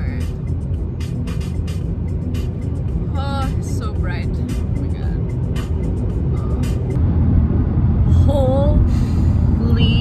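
Car driving on a road in Saskatchewan, a steady close engine and road rumble heard from inside the vehicle, with people talking over it and a few short squeaky sounds near the end.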